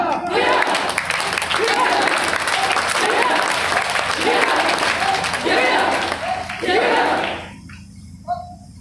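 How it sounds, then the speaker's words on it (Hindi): Loud, sustained applause from an audience at a scout training camp, a dense wash of many hands clapping for several seconds before cutting off abruptly, with a faint voice afterward. "जोरदार तालियां।"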